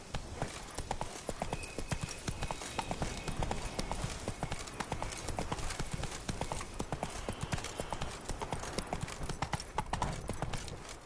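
The horse Roach gallops in The Witcher, rapid rhythmic hoofbeats clopping steadily and loudly throughout, close and continuous with no break.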